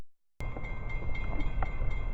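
A train rolls past in the open during a day of railfanning, a steady broadband rumble of wagons that cuts in abruptly after a brief silence and continues with faint rhythmic clatter.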